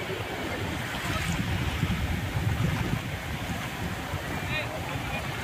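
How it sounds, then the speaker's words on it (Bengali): Sea surf washes and splashes steadily onto the shore at Mandarmani beach, a broad continuous roar with wind buffeting the microphone and a slightly louder surge in the middle. "আসছে জলের ঝাপটা আসছে"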